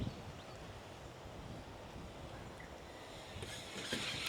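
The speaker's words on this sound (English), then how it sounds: "There's definitely some wind today." Outdoor wind blows steadily across a microphone during an FPV drone flight near a playground slide, a constant close rushing that gets slightly louder toward the end, with no talking.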